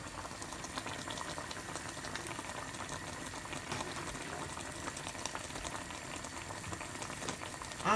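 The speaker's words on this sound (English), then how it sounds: "while the turkey is boiling" A pot of turkey bubbles at a steady rolling boil, a continuous close gurgling and simmering with no talking.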